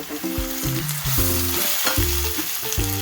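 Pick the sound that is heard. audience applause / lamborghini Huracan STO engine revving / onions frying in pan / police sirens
onions frying in pan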